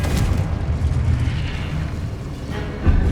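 Confringo blasting spell in Hogwarts Legacy: a loud, dense booming explosion roars continuously, with a fresh blast at the end.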